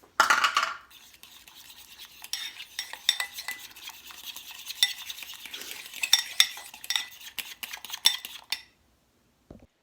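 Chaffle batter of whole egg, almond flour and melted butter whisked in a bowl, a rapid run of close clinking and scraping of utensil against dish that goes on for several seconds before stopping, no talking.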